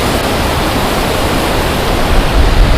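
Kanoor (Devkar) waterfall near Yellapur, Karnataka gives a steady, dense roar of rushing water, loud and unbroken throughout with no voices.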